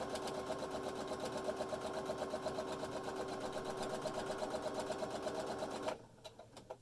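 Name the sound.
sewing machine stitching face mask fabric edges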